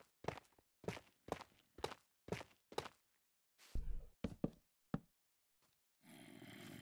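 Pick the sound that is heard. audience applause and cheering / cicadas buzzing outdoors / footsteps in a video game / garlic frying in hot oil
footsteps in a video game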